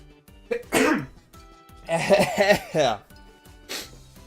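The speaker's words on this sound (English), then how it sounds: "Hold on, I'm gonna sneeze." A single sharp sneeze bursts out between bits of nearby speech, with a short exhale after.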